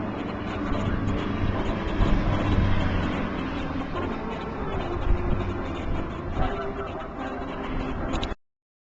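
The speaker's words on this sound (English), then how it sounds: "Remarkable aircraft, but not all the same" Aerobatic monoplanes performing at the 2009 Bournemouth Airshow, a steady broadband engine roar that swells and fades slightly for about eight seconds before cutting off abruptly, with no talk over it.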